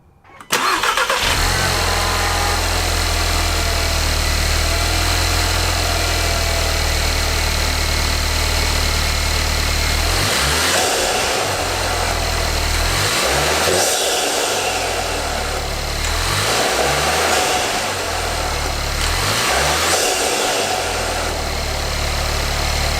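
A turbocharged car engine fitted with an Integrated Engineering cold air intake cranks and starts, then settles into a steady loud idle with four rising revs in quick succession, each spooling up and falling back.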